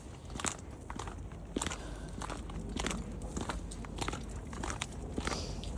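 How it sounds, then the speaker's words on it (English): Crunchy, gritty footsteps from boots with grips on bare ground without snow or ice, walking at a steady pace close by, each step giving a sharp scraping crackle. "I would not be making this much noise while walking."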